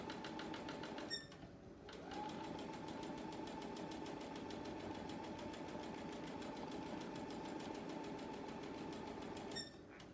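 A sewing machine stitches a quilt square in one long continuous run of rapid, even needle chatter, close and fairly quiet, framed by brief back-stitch bursts at the start and end, with no voices.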